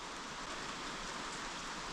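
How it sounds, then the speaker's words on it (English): Steady rain pours down outdoors at a sawmilling site, a dense even hiss with no gaps, loud and close throughout. "maybe the rain will stop"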